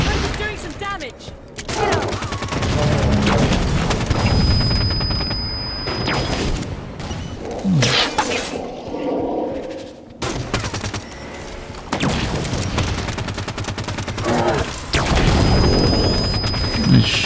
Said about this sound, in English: I'm gonna shoot my friend with the big gun.